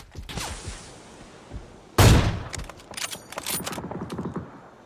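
In a first-person shooter video game, a sharp sniper rifle shot cracks loudly midway, followed by rattling bursts of gunfire and mechanical clatter, with quieter game noise before the shot.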